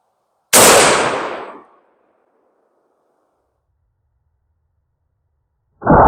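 A single thunderous shot from a 50 BMG rifle mounted on a heavy-duty shooting tripod cracks outdoors and fades over about a second into silence, followed by the start of another loud blast at the end.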